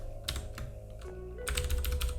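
Typing on a computer keyboard: quick clusters of crisp key clicks, close and fairly quiet, with a brief pause before a faster burst of keystrokes.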